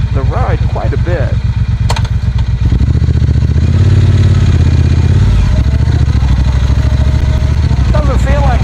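A 2018 Triumph Bonneville Speedmaster motorcycle, a heavy bike of over 500 pounds on big tires, rumbles steadily as it is ridden, its engine growing louder and fuller partway through while someone talks over it.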